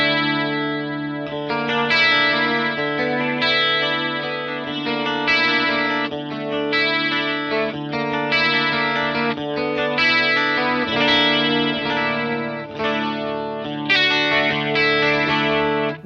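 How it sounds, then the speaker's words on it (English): A guitar through a Fender Mustang Micro headphone amp with chorus and reverb, sustained shimmering chords strummed in a steady rhythm, loud and close with no talking. "Chorus and reverb"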